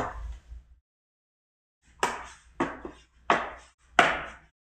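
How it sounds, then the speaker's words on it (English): Thick card folded against the grain, creasing with a few crunchy, crackling folds, four separate bursts after a short pause, close and fairly loud. "you can see and hear that it's not folding very neatly at all"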